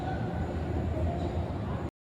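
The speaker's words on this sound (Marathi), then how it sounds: "आलेली आहे आपली आता मेट्रो." A Pune metro train pulling into a station, its low steady rumble filling the platform and holding constant before cutting off abruptly.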